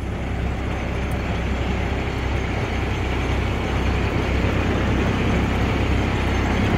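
Yanmar GC215 combine harvester with a three-cylinder diesel engine running, a continuous rough, loud diesel rumble and clatter held steady throughout, no talk.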